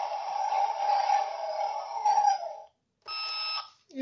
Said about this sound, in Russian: Есть у нас вот такой вот звук работы ковша.